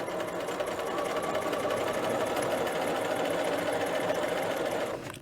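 A sewing machine runs steadily, stitching a collar onto a McCall's 8031 dress, with a loud, even, rapid needle chatter that holds for about five seconds before stopping abruptly.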